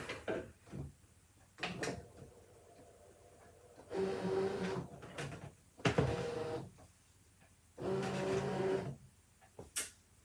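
A ScanNCut cutting machine drives its mat in short mechanical bursts, whirring motor runs of a second or so separated by quiet pauses, with a few sharp clicks between them; close and fairly soft, no talking.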